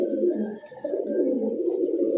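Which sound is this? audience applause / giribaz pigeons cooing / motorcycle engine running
giribaz pigeons cooing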